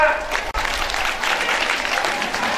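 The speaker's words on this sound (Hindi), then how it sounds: "तालियों स्वागत करें" A crowd at an ASHA workers' conference applauds an award winner, giving steady, dense clapping throughout that is loud and close.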